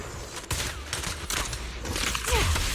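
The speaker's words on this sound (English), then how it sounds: "Watch out for Grim Vulture taking shots from afar." Dense enemy gunfire rattles in a video game battle in Zenless Zone Zero, with rapid overlapping shots that sound like a distant fusillade amid a busy mix of game sounds.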